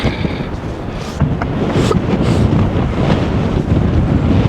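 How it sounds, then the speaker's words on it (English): Strong blizzard wind roars steadily around an old train station, a loud, continuous gusting rush that swells and buffets the microphone without pause. "This wind."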